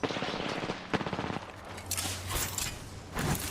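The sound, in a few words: gunshots in a video game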